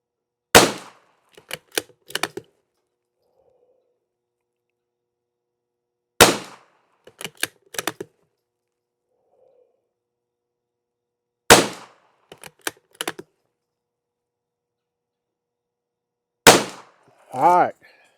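CCI SV rimfire rounds lubed with WD-40 silicone spray fire as four sharp, loud shots spaced about five seconds apart, each followed by a quick cluster of crisp mechanical clicks, with no talking.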